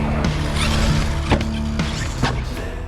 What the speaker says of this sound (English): Let's see how the XTR takes on the Arc track.